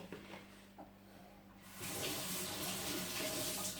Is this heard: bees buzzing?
no